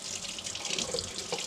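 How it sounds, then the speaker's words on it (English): Hot water runs from a kitchen tap into a sink to rinse an old cast iron pan, a steady close splashing stream with small shifts as the flow hits the metal. "What we're going to do is we're going to start some hot water."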